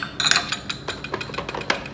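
A small spoon scrapes sticky honey from a container, producing a string of light metallic clinks and taps at an irregular pace, close by, with no voices.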